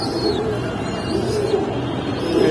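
Racer pigeon chicks at a pigeon market, soft repeated cooing over a dull crowded background hum, with faint chirps here and there and no talking.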